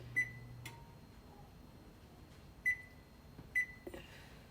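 Oven control panel beeping while its timer is set for a roast, several short sharp electronic beeps spaced a few seconds apart, fairly close and clear, with no talking over them.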